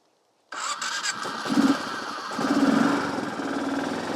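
A small 250 Kawasaki engine cranks and catches after a moment of silence, then runs at a loud, close, buzzing idle with slight revving swells. There is no talking.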